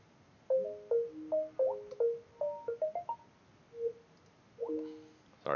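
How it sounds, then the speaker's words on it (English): A mobile phone ringtone playing a quick melodic run of electronic beeps, several short notes in a bouncy rhythm, fairly faint and heard twice with a pause between. "that was my phone ringing."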